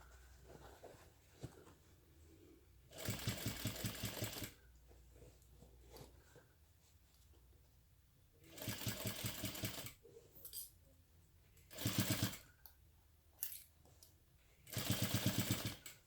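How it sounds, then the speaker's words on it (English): Sewing machine stitching a crossbody bag, running in four separate bursts of a second or so each, close and clear between quiet pauses, with no talking. "And I'm going to sew only right to that point there where I stopped sewing that other line."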